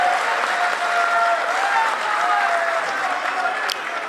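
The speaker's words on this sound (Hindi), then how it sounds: "जोरदार तालियों से स्वागत करेंगे।" A crowd at a political gathering applauds to welcome a speaker, a steady wash of clapping that holds loud and even for about four seconds with a voice faintly underneath.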